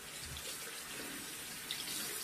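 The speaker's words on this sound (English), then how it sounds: "Turn the water on." A tap runs during ritual washing before Muslim prayer, giving a steady, moderately loud stream of water with a small splash near the end and no speech over it.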